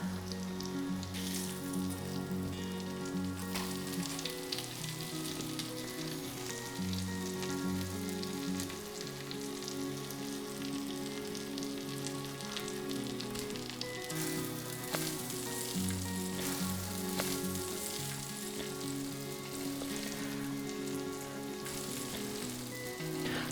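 Cottage cheese pancakes, sirniki, frying in oil, an even, crackling sizzle that runs steadily throughout at moderate level with no voices.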